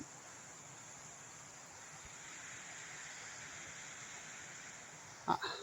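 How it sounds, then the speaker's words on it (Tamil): A waterfall on the Narmada river route, heard as a steady, fairly faint broadband rush of falling water with some wind, ending in a brief handling bump. "இந்த அருவியை பார்த்தோன்னு நின்றுட்டேன் எப்படி இருக்குது பாருங்கள் அழகா"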